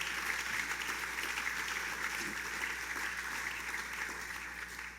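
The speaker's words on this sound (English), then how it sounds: "let's give him a big round of applause for not being here" An audience at a Catskills summer tourism launch event claps in a steady, even wash of applause that holds throughout over a low hum.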